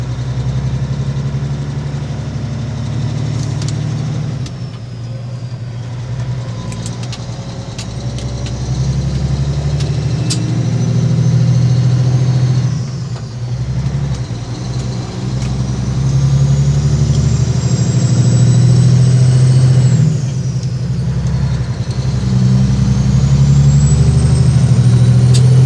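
A heavy truck engine drones loudly and steadily near a scale house, with low rumbling harmonics, rising whines and brief dips around the middle and near the end as a gear shift is missed; no one talks.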